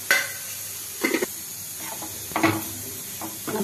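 Desi ghee melting in a pan gives a soft, steady sizzle and hiss, broken by several short scraping bursts as a spoon stirs it, fairly close and quiet.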